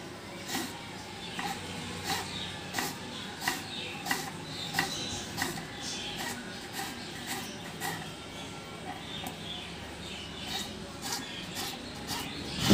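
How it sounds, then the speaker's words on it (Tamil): Onions sliced lengthwise with a knife on a board, a steady run of soft, close chopping taps about twice a second, faint against a low background hum. "வெங்காயத்தை வந்து நீள் வாக்கில் வந்து கட் பண்ணி எடுத்துக்கணும்"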